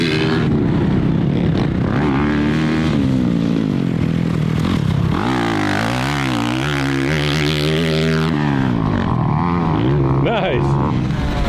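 A race-tuned motorcycle engine held in second gear revs hard and climbs in pitch as it accelerates, loud and close, with rising and falling harmonics throughout.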